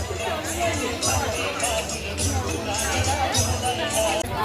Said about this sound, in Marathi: लोकांनी चहा प्यायला गर्दी केली